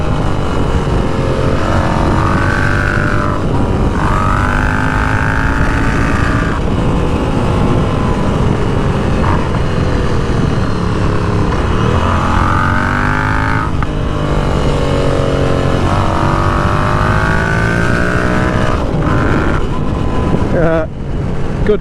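Royal Enfield Continental GT 650 motorcycle riding on a road, with a loud steady engine drone rising and falling through repeated gear changes and revs, close and continuous throughout.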